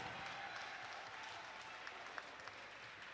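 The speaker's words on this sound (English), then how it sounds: "how about a round of applause for 3 great rounds of action?" Applause from a crowd at a kickboxing fight night after three rounds, a steady broadband wash of clapping that stays fairly faint and even throughout, with no clear voices on top.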